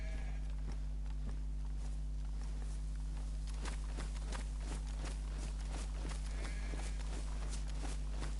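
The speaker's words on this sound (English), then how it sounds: "Could have sworn I heard footsteps outside then." Footsteps in the video game DayZ, a series of soft, fairly regular thuds over a low steady hum, quiet and somewhat distant.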